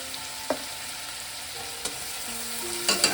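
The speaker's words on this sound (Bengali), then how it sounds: "দু মিনিট আমি টমেটোটাকে ভালো করে কষিয়ে নিলাম এবার আমি দেব এক চামচ হলুদ গুঁড়ো এক চামচ লঙ্কার গুঁড়ো" Tomato sautéing in a pan with turmeric and chili powder for a tilapia curry with mustard and poppy seed: a steady, fairly quiet sizzle with a few light clinks of a spoon, and no voices.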